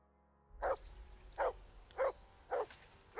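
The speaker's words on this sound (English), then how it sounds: "Call off that mutt" A dog in the video game Kingdom Come: Deliverance II barks five times at steady intervals, each bark short and fairly close, after a brief quiet start.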